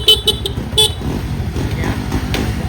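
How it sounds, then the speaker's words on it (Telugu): A motorbike's horn is tested with four quick, loud beeps in the first second, followed by the low, rumbling idle of the engine close by. "And then horn."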